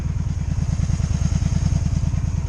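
A 2002 Honda Magna VF750C motorcycle engine idles out of gear with a steady, rapid low-pitched pulsing throb and faint mechanical clatter, close and even throughout.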